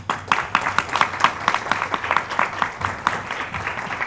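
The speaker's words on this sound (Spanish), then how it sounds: "Pediría un doble aplauso y que Tochan se lo dé a todas las compañeras" A small crowd applauds at a press conference, with steady, moderately loud clapping that continues without pause and no voices over it.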